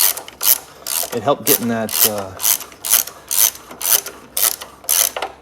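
Ratchet wrench clicking in repeated quick bursts while loosening the exhaust manifolds on a VW Type 4 engine, close and loud, with a voice speaking briefly partway through.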